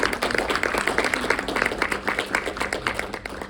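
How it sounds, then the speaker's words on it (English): An audience at an oncology celebration gathering claps for past leaders, a steady, fairly dense round of applause that holds at an even level throughout. "So let's give them all a round of applause."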